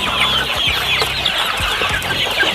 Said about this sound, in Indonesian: tiap hari pagi dan sore saya memberi makan ayam-ayam saya